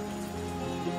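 Steady rain pours down outdoors, a dense, even hiss of drops spattering on surfaces, with no voices over it.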